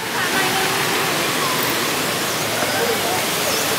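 The Kaeng Yui waterfall near Vang Vieng, Laos, roars as a loud, dense, continuous rush of falling water close by, with voices talking faintly beneath it.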